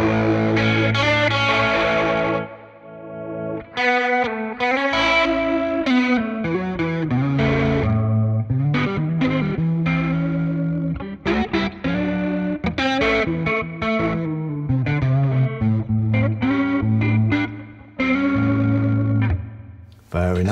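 Electric guitar through a Valeton GP200 multi-effects unit on a Fender Deluxe amp model, clean chords and melodic phrases with chorus and echo, played continuously and loud for about twenty seconds.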